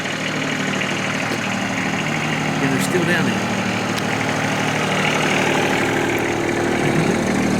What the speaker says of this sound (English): I was just pulling the tractor,